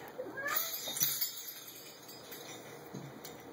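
A house cat meows at home, a few drawn-out, quiet cries with a slight rising whine, heard alone against a soft background.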